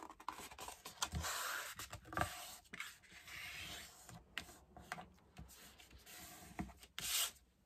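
White card stock blank folded and creased for a handmade Disney Vaiana card, heard as close dry rubbing and scraping strokes with sharp paper taps and crackles, steady and fairly quiet with no talk.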